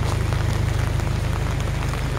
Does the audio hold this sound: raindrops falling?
yes